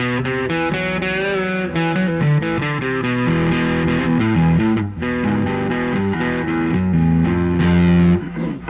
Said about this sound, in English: You can see how reverb is just useful for a variety of applications.